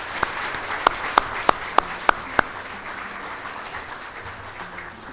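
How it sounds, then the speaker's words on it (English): At a Richland, Washington city council meeting, attendees applaud the CCOM emergency dispatchers: seven sharp, separate claps ring out over a low, steady wash of room noise, then the clapping stops and only the background hum remains. "So if we could give the CCOM dispatchers a round of applause,"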